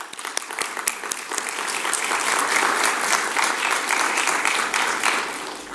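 A forum audience breaks into applause that swells to a full, steady clapping and then begins to taper, with no voices over it.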